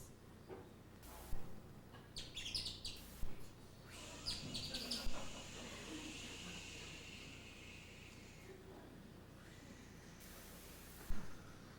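Birds calling in woodland: a few short, high chirps and tweets in brief bursts, faint and distant over a quiet outdoor background.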